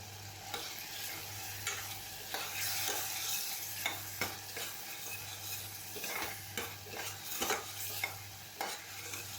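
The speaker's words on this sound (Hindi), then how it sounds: "बिल्कुल ये फ्लैट वाला जो स्पैचुला है उससे मैं हिला रही हूँ" A flat spatula stirs ridge gourd pieces through sizzling tempering oil in a pan, with steady frying hiss and repeated scraping strokes at an irregular rhythm, close and fairly quiet.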